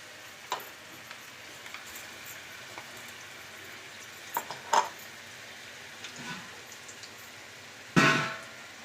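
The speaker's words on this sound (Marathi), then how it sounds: "हे चांगलं भाजून घ्यायचंय वाटण." Finely ground masala paste roasts in a pan for a village-style fish curry, a quiet sizzle broken by scattered ticks and spoon scrapes, ending with a louder clatter of the pan near the end.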